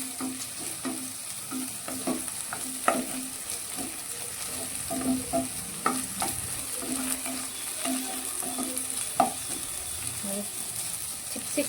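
Chopped okra (bhindi) frying in hot oil, a steady close sizzle broken by repeated clinks and scrapes of a spoon stirring the pan throughout.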